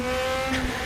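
A race car engine in RaceRoom Racing Experience holds a steady high rev, buzzing and droning loudly and close for a brief moment with no voices.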